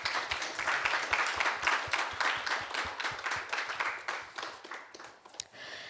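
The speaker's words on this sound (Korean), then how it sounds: "Please give him a warm round of applause." An audience at a youth forum opening ceremony claps after a speech, a fairly close, modest round of distinct, brisk hand claps that thins out toward the end.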